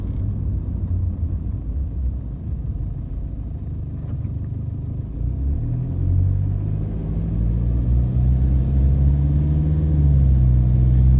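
A car engine idles and runs after its injectors were replaced, a steady low rumble heard from inside the cabin with the window up, rising slightly in pitch and load toward the end, with no talk.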